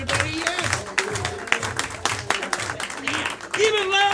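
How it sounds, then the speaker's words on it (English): At a comedy club event, the audience applauds the night's volunteers, a rolling patter of clapping heard beneath a host's amplified voice, with cheering swelling near the end. "let's keep an applause going for all our volunteers that helped us out tonight"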